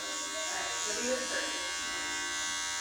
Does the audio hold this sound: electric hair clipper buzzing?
yes